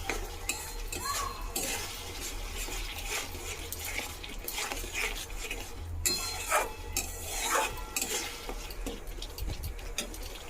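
A spoon scrapes and rubs softly through spice masala with Kashmiri chili powder in a pan, faint intermittent stirring with light clinks at close range.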